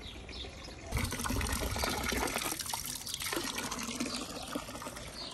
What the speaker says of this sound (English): There are several fountains throughout the city